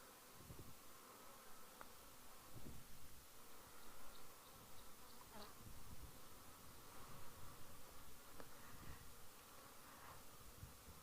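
Many bees, probably mason bees, buzz steadily around a mud wallow, a dense close hum with occasional louder passes near the listener and no talking.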